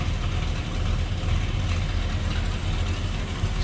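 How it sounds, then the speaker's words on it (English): A 1960 Chevrolet Apache pickup with a 350 V8 and a mild cam idles steadily with a low, continuous rumble and a faint lope, close up and with no one talking. "just a nice sounding 350 under that hood. Sounds like it may have a little cam to it"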